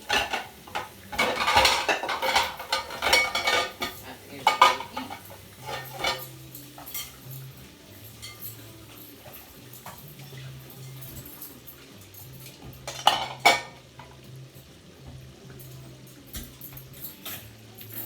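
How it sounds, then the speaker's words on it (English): Dishes, pots and cutlery are washed in a home kitchen, with clattering and clinking bursts at the start and again midway, separated by quieter stretches over a low steady hum. "Like I said, I wash dishes while I go."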